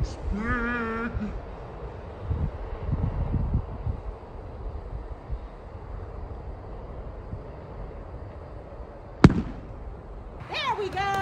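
Freezer bag bursting in an exploding lunch bag experiment, a single sharp pop late in the clip over breezy outdoor noise, with voices heard around it.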